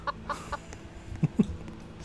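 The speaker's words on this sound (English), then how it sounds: "a chicken in the background" A chicken in a Roblox Lumber Tycoon 2 game clucks several times in the background, a few short, fairly quiet clucks spread unevenly over a couple of seconds.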